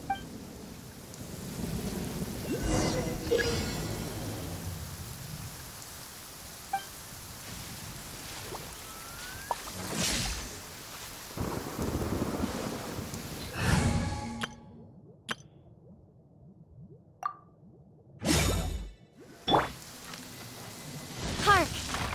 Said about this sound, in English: Hark! 'Tis thundering retribution.